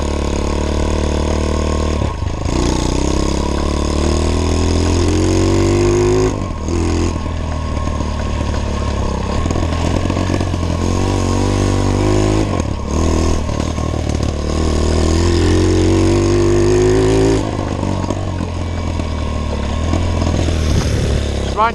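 A cheap $50 pit bike with very low gearing runs through a first ride, its small single-cylinder engine droning steadily and loudly with repeated rises in revs and brief dips between throttle blips.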